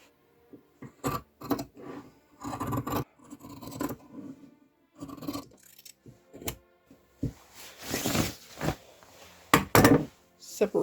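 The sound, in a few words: scissors cutting blazer fabric along the print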